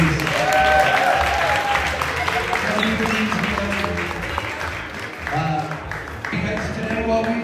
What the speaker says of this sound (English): Can we get a big round of applause for tonight's DJ Ottawa, please?